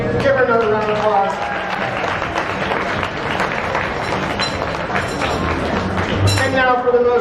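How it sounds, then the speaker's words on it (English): A crowd claps steadily through a live show at the Oddities Curiosities Expo in Atlanta. The fairly loud applause runs continuously under a talking voice and crowd noise. "Give her another round of applause."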